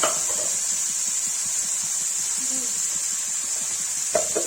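Chopped tomato, onion, garlic and ginger frying in a pan for baingan aloo sabzi, producing a steady, even hiss of sizzling oil with a faint clink of stirring near the end.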